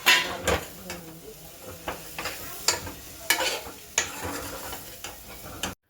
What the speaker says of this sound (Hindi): ये जो ड्राई फ्रूट मैंने रात भिगोए थे, उनको भी फिर दाल के साथ डाल भून लूँगी।